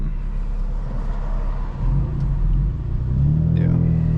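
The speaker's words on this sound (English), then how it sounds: "So can hear it, you know, as I'm coming down high RPMs. There's just absolutely no burble." Tuned BMW M4 F82 engine in a driving car, heard as a low rumbling drone that builds and drops as revs change, with someone talking over the engine noise.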